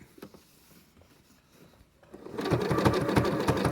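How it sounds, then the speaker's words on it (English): A sewing machine stitches a jelly roll rug tube, starting after a quiet pause and then running steadily with a fast, even, close-up mechanical rattle that continues to the end. "So we'll keep sewing"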